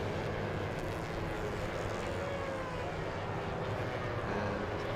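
A Kawasaki racing motorcycle runs at a road racing championship track. A steady, distant engine drone and broadband roar hold for the whole stretch, faint and with no clear gear changes.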